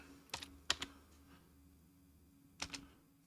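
Short bursts of clicky keystrokes on a computer keyboard: a few quick taps, a pause, then two more, faint and close in a quiet room with no voices.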